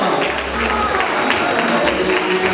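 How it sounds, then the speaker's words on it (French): A church congregation at a Mass in Boma, Kongo Central, breaks into applause, a dense, steady wash of clapping that fills the space, with voices talking over it throughout. "on va applaudir, on va nous applaudir"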